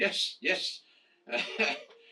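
Four harsh coughs come in two quick pairs, close and fairly loud, with a short quiet pause between the pairs.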